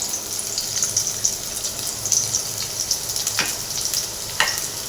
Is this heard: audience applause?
no